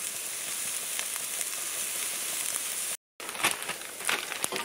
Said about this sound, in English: So let me saute this, I'll let you know how long it takes,